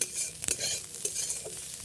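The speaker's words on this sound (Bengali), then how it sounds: "আগে মাছটা ভেজে নিচ্ছি" Fish frying in a pan before a Bengali chachchari of small shrimp, eggplant and potato is made: a close, steady hiss of hot oil, with a few soft clinks and stirring scrapes.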